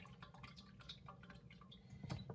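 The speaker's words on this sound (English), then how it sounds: "all that is dripping out is the whey and the leftover acid." Whey and leftover acid dripping from ricotta cheese curds as they strain, faint scattered drips and trickles heard close up with no talking.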